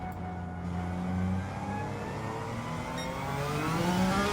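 Suzuki Escudo Pikes Peak Special '98 in Gran Turismo 7, its turbocharged engine climbing through the revs and pulling hard on a village circuit, a steady loud drone with rising harmonics and no talk.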